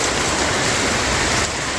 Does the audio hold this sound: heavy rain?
yes